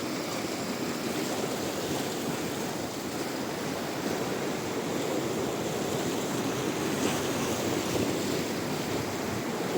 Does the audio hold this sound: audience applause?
no